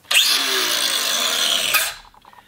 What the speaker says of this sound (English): we'll grab our trusty angle grinder